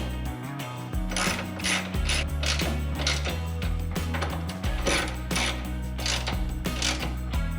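A ratchet clicks in quick repeated bursts while tightening shock absorber bolts on a 1966 Ford Mustang front suspension, with steady rhythmic ratcheting and metallic mechanism noise close up throughout.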